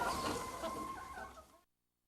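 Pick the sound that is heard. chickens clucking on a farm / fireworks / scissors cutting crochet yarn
chickens clucking on a farm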